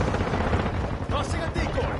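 A rocket-propelled grenade goes off in a video game shooter amid dense, crackling gunfire and blasts, a loud continuous burst of combat noise with voices shouting over it.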